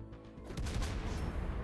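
Cruiser guns of the Buffalo firing in World of Warships Blitz: dense, rumbling volleys of heavy naval gunfire that swell after a softer start and then roll on continuously at close range.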